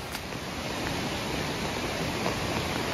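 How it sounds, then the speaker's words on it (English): A creek running strongly after heavy flow near a waterfall in a gorge under flood warning, producing a steady, dense broadband rush of water that holds constant throughout, close and continuous with no talk. "I can hear the creek. It's running pretty good today."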